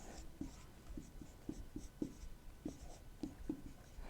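Pen writing a maths integration solution by hand on paper, a quick run of light scratchy strokes and taps in an uneven rhythm, close and quiet, with no talk.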